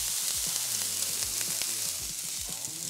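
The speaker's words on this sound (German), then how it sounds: "Hier schön den Speck anbraten." Vegan bacon and onions frying in a pan give a steady, close sizzle, with occasional soft stirring scrapes and no talk.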